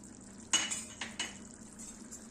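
A metal spoon scrapes and clinks against a pan while stirring matki masala with garam masala mixed in, a few close, bright strokes over a soft steady background.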